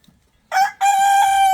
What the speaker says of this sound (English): whenever I take out my phone, that's when he start crowing